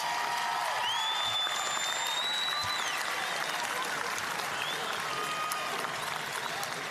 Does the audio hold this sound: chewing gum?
no